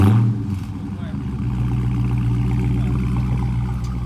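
A brand-new Dodge Scat Pack's engine starts up and settles into a deep, loud rumble, rising slightly as it revs, heard up close in a garage.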